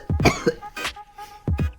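A man coughs in several harsh, close bursts, a quick double cough, a single hack, then another pair after a short pause, with no talk over them.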